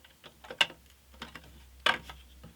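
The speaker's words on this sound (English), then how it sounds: "As I drop the bolt on the floor" A metal wing nut from a router suspension harness drops onto a workshop floor, giving a few sharp, light clinks and small bounces, close and fairly quiet, with no talking.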